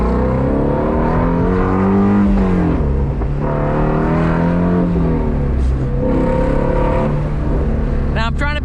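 A 2020 Ford Shelby GT500 engine revs and roars, its exhaust note rising and falling repeatedly, with someone talking over it.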